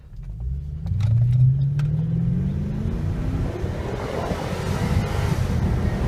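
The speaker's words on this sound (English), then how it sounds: "we'll go ahead here and just give it a little bit of gas" A Lexus GS400 accelerates on a test drive, the engine note rising in a smooth climbing drone under heavy wind and road rush inside the car, loud and continuous.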